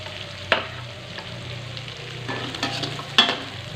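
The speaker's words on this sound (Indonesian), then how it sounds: "kita masak sekarang sampai matang ya si cabenya biar nggak bau" Chili sizzling as it fries in a pan, with a spatula stirring it and two sharp scrapes against the metal. The sizzle is steady and close, with no voices.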